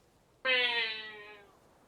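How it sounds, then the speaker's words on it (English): A cat in a video game lets out a single clear, drawn-out meow that fades away, alone against a quiet background. "Crazy cat."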